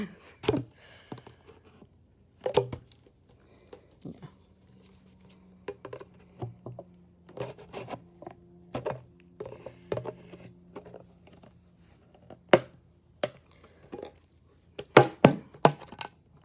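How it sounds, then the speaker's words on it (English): Scissors snip repeatedly through a recycled plastic bottle, giving sharp close crunchy cuts in uneven bursts, with a low hum running through the middle. "Right in the back, you're going to kind of pinch up a little section and just make your first snip."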